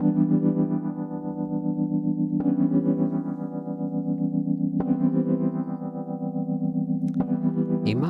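Soloed FM synth chords from BLEASS Omega, pitched an octave down, ring out as sustained buzzy, distorted pads with chorus and echo. A new chord strikes roughly every two and a half seconds, each trailing off into the next.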